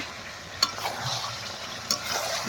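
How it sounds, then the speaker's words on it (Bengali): Fried potatoes are sautéed in a pan for mutton masala over a stove, giving a steady soft sizzle with two sharp scrapes of a spoon against the pan. "আলুটা দিয়ে এখন একটু কষি"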